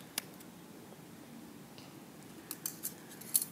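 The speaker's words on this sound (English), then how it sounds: "I do a measurement and then I cut how much string I want" Scissors snip string for a handmade Barbie keychain, giving a few short, quiet cuts: one near the start and a small cluster toward the end over a soft room background.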